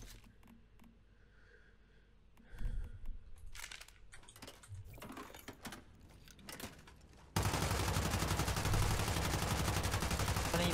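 A light machine gun in the survival shooter Once Human fires in a sustained, loud automatic burst that dominates the last few seconds, after quieter scattered clatter and movement sounds.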